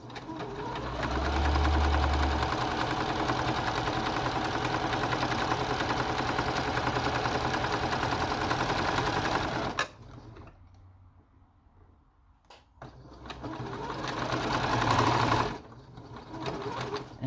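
A sewing machine stitches a wide fabric headband, running in a loud steady whir for about ten seconds, pausing briefly with quieter handling noise, then starting up again for a shorter burst.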